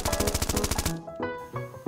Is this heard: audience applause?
no